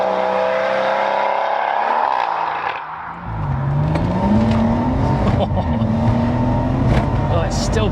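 Tuned Stage 2+ track-spec BMW M140i accelerating hard, the engine note rising through the gears with a brief dip at a shift, heard from inside the car under a voice speaking.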